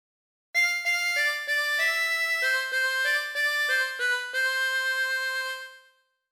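A 24-hole tremolo harmonica plays a phrase of Ampar Ampar Pisang: a clear run of separate blown and drawn notes, several repeated, ending on a long held tone that fades out.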